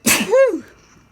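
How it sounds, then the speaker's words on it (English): A single sharp sneeze from a person outdoors on a beach, with a quick breathy intake bursting into a loud nasal blast that fades within a second. "And I'm gonna sneeze."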